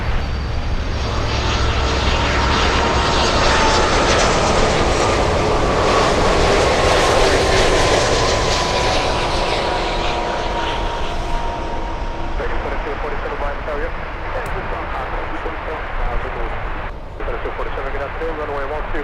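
A Boeing 737 airliner comes in to land at Miami International Airport, a loud sustained jet roar that builds, peaks and slowly fades as it passes, with voices talking over it.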